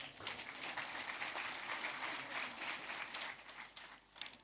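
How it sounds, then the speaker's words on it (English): Audience applause at a farewell parade for the President of Barbados, a steady, fairly distant wash of many hands clapping that holds evenly for several seconds and tapers slightly at the end. "You may clap for that."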